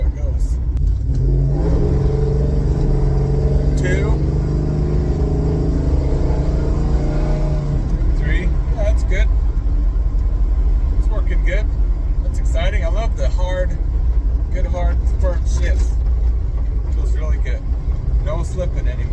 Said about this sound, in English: I'm gonna drive a little bit and see how it goes